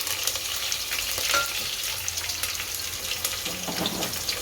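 Curry leaves and dry spices dropped into hot oil for Gujarati spiced rice, giving a continuous close, fairly loud sizzle and crackle with faint stirring scrapes throughout.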